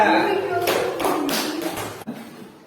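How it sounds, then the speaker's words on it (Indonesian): A classroom of students claps for group 3, a burst of scattered hand claps in uneven rhythm, fairly close, with voices mixed in. "Tepuk tangan buat kelompok 3."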